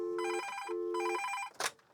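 A telephone on a Panasonic KX-TA824 analog PBX line rings in two steady electronic bursts with a short gap between them, followed by a brief click-like noise as the ringing stops.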